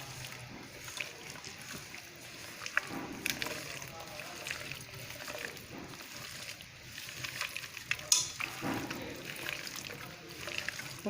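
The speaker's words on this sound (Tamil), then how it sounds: "ஃபுல்லாக இந்த மாதிரி மசாலாலாம் வச்ச மாதிரி நல்லா கலந்துக்குவோம் காடையில்." Hands mix spice masala into raw quail pieces for a fry, producing soft, wet squelches and sticky rustling in irregular bursts, close and quiet with no clear talking.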